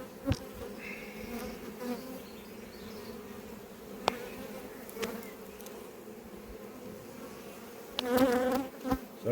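Honey bees buzz around a hive at an apiary, a continuous drone with individual bees passing close by, plus a few faint clicks and a louder buzzing pass near the end.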